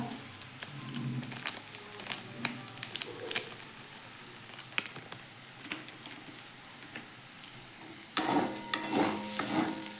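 Cumin and coriander powder masala sautéing in a pan for potato curry, a soft low sizzle with light rhythmic stirring taps, ending in a louder burst of scraping and frying.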